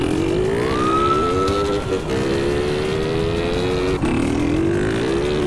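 A CG Cargo 160 motorcycle in GTA San Andreas revs and accelerates loudly and continuously, its engine note rising in pitch, dipping briefly around gear shifts, then climbing again, close and steady throughout.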